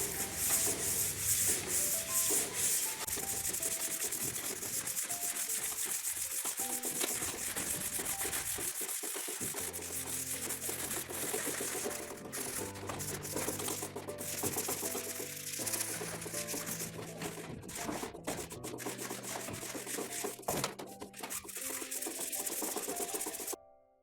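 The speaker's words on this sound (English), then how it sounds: "Next is everybody's favorite step, sanding." Steady, continuous scraping of a sanding pad rubbed back and forth across a hard plaster ceiling, with rhythmic strokes and no talking.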